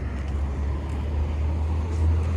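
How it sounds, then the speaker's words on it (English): Heavy trucks carrying fuel and wood rumble past on a small-town road in Tuskegee, Alabama, a steady low engine drone with traffic noise, fairly close and continuous. "Lots of trucks passing by, carrying fuel, carrying wood."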